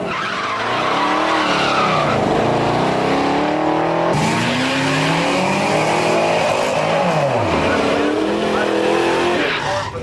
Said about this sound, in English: The tires just scrabbling for traction.